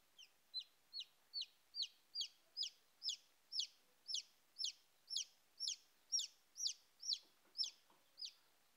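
A newly hatched chick in an egg incubator, hatched after 24 days, gives a steady series of about eighteen sharp, evenly spaced peeps, close and clear with no talking.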